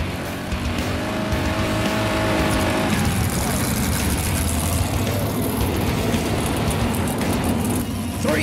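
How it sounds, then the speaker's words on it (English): Non-wing sprint cars roaring around the dirt 105 Speedway in Cleveland, Texas, a loud continuous engine drone with rising and falling revs, an announcer's voice running over it. "Three wide for the elite non-wing sprint car series here at the 105 Speedway in Cleveland, Texas."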